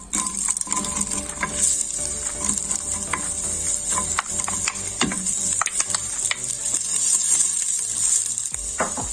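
Garlic and small onions sizzle steadily in a hot pot for leek and potato soup, with a spoon repeatedly scraping and clinking against the metal as they are stirred, loud and close throughout.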